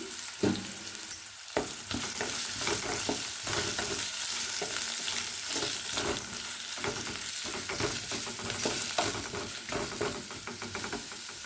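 Onions and curry leaves fry steadily in a pan for a no-sauce fried rice, giving a dense, continuous sizzle with crackles and occasional stirring scrapes throughout.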